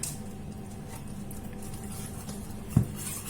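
Melted chocolate being stirred with plain yogurt into a ganache, a soft, close wet patter and squish of mixing with one brief louder knock near the end, no voices.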